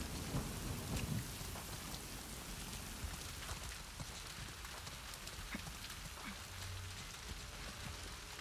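Steady heavy rain pours throughout with a low rumble of thunder in The Last of Us Part II, a constant wash of noise with faint scattered thuds underneath.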